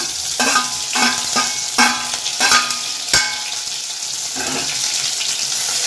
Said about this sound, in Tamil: இப்போ நம்ம வெங்காயம் சேர்த்துக்கலாம் அடுத்தது இந்த கருவேப்பிலையும் இதிலே சேர்த்துடலாம்